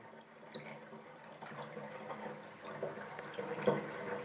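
Water runs steadily into the tank of a Vitality machine, a soft continuous pouring and trickling wash with faint sloshing that builds slightly toward the end, heard alone with no talk.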